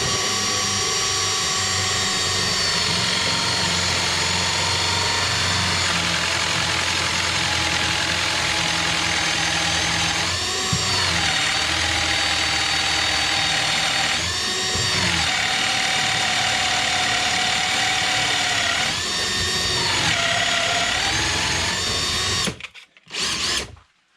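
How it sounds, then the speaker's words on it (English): A power drill boring through a Kreg concealed hinge jig for shed cabinet doors, a loud sustained whine with several dips and surges as the bit bites, running steadily with no talk before stopping at the end. "you can just literally get your drill going and then drill right through it"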